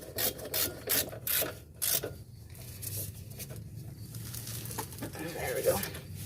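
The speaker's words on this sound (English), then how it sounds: "grab our ratchet and we can tighten these two mounting bolts back" A hand ratchet tightens the two brake caliper mounting bolts on a 2007 Chevrolet Cobalt during a brake pad and rotor job. Quick clicking bursts come first, then quieter metallic working sounds, close by.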